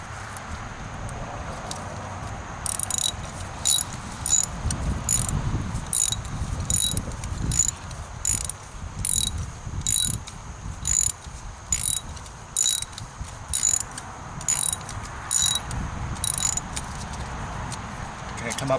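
Ratchet wrench turning a socket to loosen a spark plug, repeated bursts of fast clicking in a steady rhythm, close and fairly loud, with a low background rumble.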